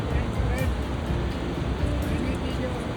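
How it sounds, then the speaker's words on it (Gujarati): Water rushing at high speed in a waterfall beside the Kedarnath trail, a steady loud roar of broadband wash that fills the whole clip, with no voices. "બહુ સ્પીડમાં પાણી આવે છે, બહુ."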